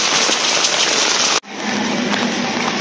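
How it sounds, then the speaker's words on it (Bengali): A downpour of heavy rain roars close and loud. It cuts out for an instant midway, then returns to the same dense, even patter. "দেখো কি বৃষ্টি হচ্ছে"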